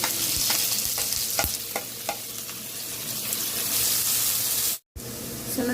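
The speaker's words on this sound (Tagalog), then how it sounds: "Kailangan mo na siyang i-fry sa oil" Tofu deep-frying in oil, a steady loud sizzle and bubbling with a few sharp crackles and stirring knocks, continuous throughout with a brief silent gap near the end.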